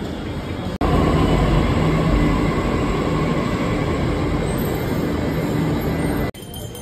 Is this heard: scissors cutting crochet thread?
no